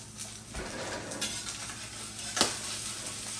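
Omelet cooking in a pan gives a low, steady sizzle with light scraping and a clink of utensil against the pan near the end, no talking.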